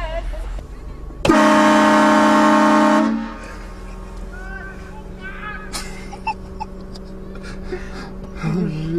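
A loud train horn blasts as a prank for about two seconds, a sustained harmonic blare close by, followed by quieter surroundings with people talking faintly.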